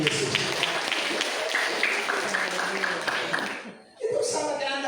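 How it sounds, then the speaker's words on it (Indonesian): Church audience applauding for Jesus during a sermon, a broad steady clatter of many hands that fades to a brief lull before voices and clapping pick up again. "Tepuk tangan bagi Tuhan Yesus"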